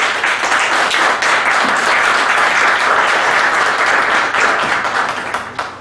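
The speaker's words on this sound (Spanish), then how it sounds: "Un fuerte aplauso a la maestra." Dense, sustained audience applause honoring a teacher at a university tribute event, loud and steady throughout with many overlapping claps, thinning slightly toward the end.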